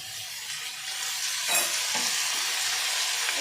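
Bottle gourd peel and potatoes fry in hot oil in a pan, giving a loud continuous sizzle with a couple of brief scraping stirs.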